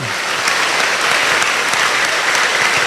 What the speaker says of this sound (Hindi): जो से तालियां बजाकर प्रभु धन्यवाद जी